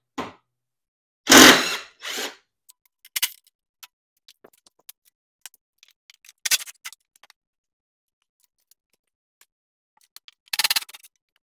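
Half-inch bolts come out of the frame of a Club Car DS golf cart in a few short bursts of a power tool, mixed with scattered small clicks and taps that sound close in an otherwise quiet space.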